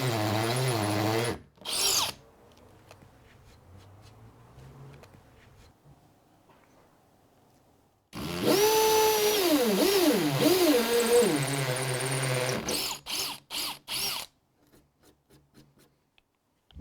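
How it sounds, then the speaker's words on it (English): A battery drill bores into a brick or masonry fence while a cat-proof fence kit is installed: a short burst, then a long, loud, close whine that rises and dips in pitch, ending in several brief stuttering pulses with no talk. "we can do this with a battery drill, but your drill will need to be capable of drilling into the brick, mortar or masonry fence"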